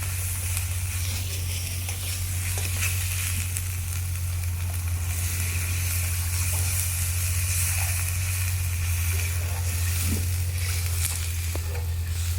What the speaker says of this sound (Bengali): মশলাটা ভাজা হয়ে গেছে, এখন জল দিলাম